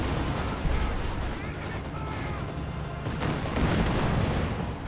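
Guns firing in a Company of Heroes 2 match, a dense stretch of distant artillery thumps and rattling gunfire layered with battle noise, continuous and fairly loud throughout.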